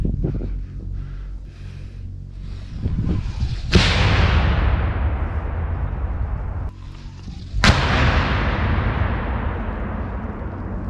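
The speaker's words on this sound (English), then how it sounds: "The soldier readied the grenade launcher. He's going to open fire on the Russian positions." A grenade launcher fires at Russian positions a few dozen meters away in trench combat, two loud sharp blasts several seconds apart, each followed by a long rumbling decay, over steady outdoor noise with no talking.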